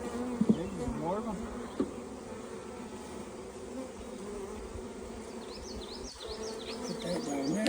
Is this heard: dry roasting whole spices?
no